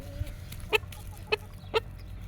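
A hen and rooster cluck in three short, evenly spaced clucks over a low steady farmyard hum, close by and moderately loud, with no talk.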